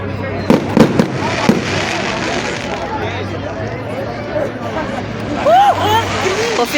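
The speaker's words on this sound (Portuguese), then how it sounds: "ali está a fogueira, fogos de artifício, comemorando a festa de São João" Fireworks crackle and pop around a São João festival bonfire, a run of sharp bursts near the start and scattered bangs later, under steady crowd hubbub and people talking nearby.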